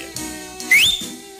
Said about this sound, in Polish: gwizdnąwszy na palcach dwukrotnie